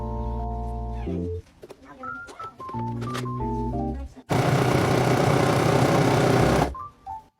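A sewing machine runs in short bursts and then one sustained loud whirring stretch while stitching a seam on a reusable bag, close up, with other brief tones and clicks in between.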